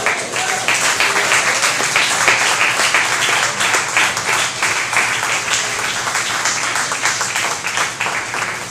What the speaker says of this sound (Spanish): ¿Cuánto le podemos dar un aplauso al Señor?